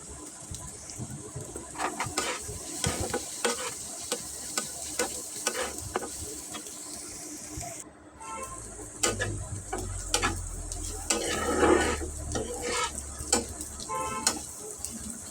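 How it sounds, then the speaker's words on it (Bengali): Onions and chopped green chili fry in a pan with salt, giving a continuous sizzle. Frequent spatula clicks and scrapes come through as the mixture is stirred, and after a brief drop the sizzle returns with a low rumble. "পেঁয়াজগুলো ভেজে নিচ্ছি, কাঁচামরিচ কুচিও দিয়ে দিয়েছি, নেড়ে চেড়ে ভেজে নিয়েছি লবণ মাখিয়ে।"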